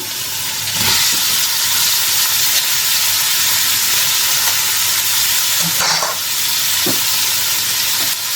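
Vegetables stir-frying for a Chinese-style dish, a loud continuous sizzle with occasional stirring scrapes and clinks, close and steady throughout.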